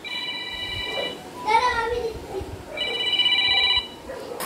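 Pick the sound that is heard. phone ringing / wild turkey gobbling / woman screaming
phone ringing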